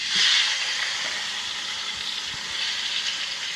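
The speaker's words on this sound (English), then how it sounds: "I have the heat medium, between medium and high, and I'm going to fry these tomatoes" Tomatoes frying in a pan over medium-high heat, a dense, close, hissing sizzle that swells at the start and then holds steady, with no talk.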